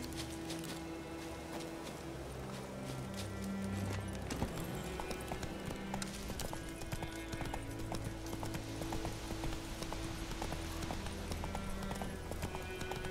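Steady clip-clopping of horse hooves in the video game The Witcher 3 continues throughout at a brisk, even pace, with a busy background of game ambient sound.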